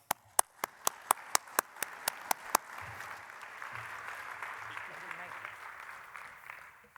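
An audience applauds to welcome NASA Glenn Research Center director Janet Kavandi, beginning with a few sharp, distinct claps that swell into steady, moderately loud clapping.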